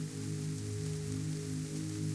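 Soft, steady rain hiss forms a quiet, continuous wash under a low sustained tonal drone, with no distinct drops or pauses throughout.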